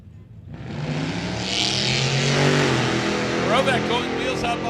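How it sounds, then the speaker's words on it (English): A 1967 Oldsmobile Cutlass hot rod with Oldsmobile power accelerates hard down a drag strip, its engine roaring loudly and rising in pitch as it pulls away, under an announcer's commentary and crowd noise. "The Cutlass boogieing down the right-hand side of the racetrack"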